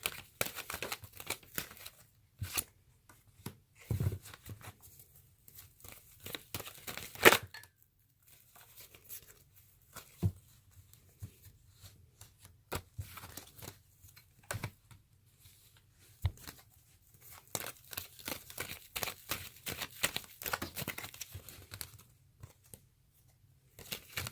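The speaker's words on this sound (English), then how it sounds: "bear with me with the shuffling process" Crisp, papery crinkling and flicking as tarot cards are shuffled by hand, in irregular bursts with brief pauses, fairly close and quiet.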